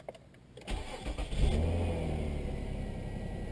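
A 1999 Nissan Altima with a newly replaced alternator cranks and fires after a few clicks, then settles into a steady idle that carries on to the end, close and fairly quiet.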